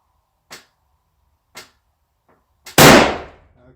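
A single sharp, loud rifle shot from a custom Model 70 rings out at a shooting range, following a few faint clicks, then decays with a long rumbling echo.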